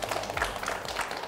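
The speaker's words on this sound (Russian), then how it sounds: "Аплодисменты." A studio audience at a Russian television talk show claps in a brief, fairly faint burst of applause.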